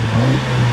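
Mercedes-AMG A45 with its factory exhaust revving, a steady loud engine drone with a low hum held throughout a short burst, no talk over it.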